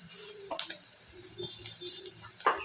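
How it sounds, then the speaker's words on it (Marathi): Onion sautéing in a pan until golden for a spicy Maharashtrian brinjal dish: a steady, close sizzling hiss runs throughout, with a couple of brief clinks of a stirring spoon. "कांदा चांगला सोनेरी कलरच परतून घ्यायचा आहे"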